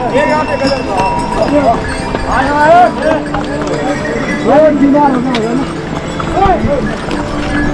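Horse hooves clop along the Kedarnath pilgrimage trek trail, a steady rhythmic clatter close by, with people talking over it throughout.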